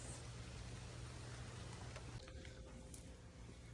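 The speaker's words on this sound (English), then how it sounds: "it's raining today" Steady rain falling, a soft continuous hiss of drops on surfaces, faint and unbroken, with a low hum underneath and no voices.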